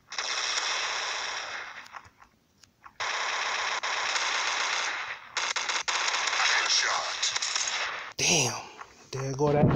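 Rapid bursts of shotgun fire from the Special Ops mobile shooter game, loud and sustained in long volleys with short gaps between them, ending in a choppier electronic burst.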